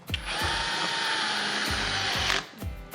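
A power drill drives screws into hinges on a wooden mahjong table, with a steady close whine lasting about two seconds and short bursts of trigger pulses before and after.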